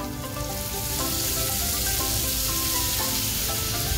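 Chicken liver sizzles and fries steadily on a hot tawa over a low gas flame, a dense continuous crackle close by with no talking.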